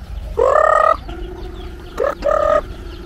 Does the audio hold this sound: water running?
no